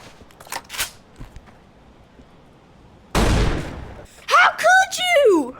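A shotgun fires in the VR game Blade & Sorcery, giving a single loud, sharp blast that decays over about a second, with voices and quieter thumps before it and a voice talking right after.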